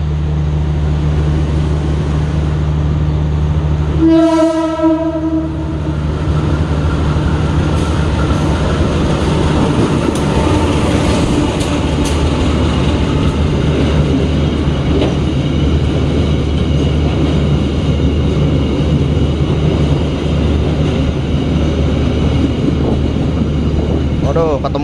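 A KLB special train delivering a trainset rolls past, sounding a short loud horn early, then a steady close rumble of wheels and cars that continues throughout.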